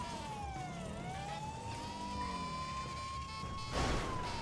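Police sirens wail in a pursuit in the video game GTA V Online, a steady rising-and-falling tone sweeping over engine rumble, with a brief crash-like burst near the end and no talking.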